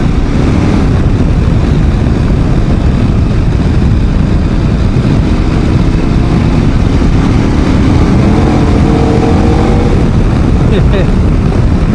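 A KTM 1090 Adventure R big-capacity motorcycle accelerates hard, its engine roaring continuously under heavy wind buffeting throughout, with rising engine tones toward the end.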